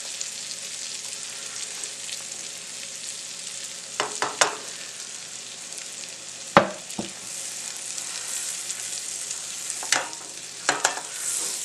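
A vegetable and egg mixture fries in a pan for breakfast tacos, giving a soft, steady sizzle broken by a few sharp scraping strokes of stirring.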